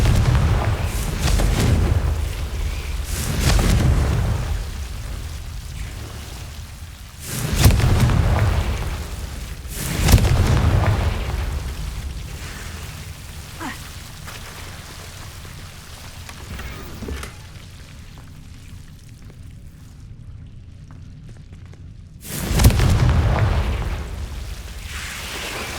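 In Hogwarts Legacy, the Confringo fire spell sets off a series of heavy booming blasts, each rolling out into a long noisy tail. The blasts come every few seconds, with a brief quiet gap between the later ones.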